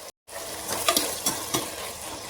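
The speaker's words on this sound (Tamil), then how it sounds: "இதுவும் சேர்த்து கிளறி விட்டுடலாம்." Chickpea biriyani is stirred in a pan: a few scraping strokes over a soft sizzle, close and clear, after a brief silent gap at the start.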